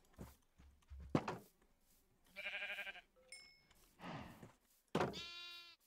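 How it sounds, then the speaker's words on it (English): Sheep in the Minecraft video game bleat several times in short wavering calls, loud and close, separated by brief gaps and soft thuds. "sheep"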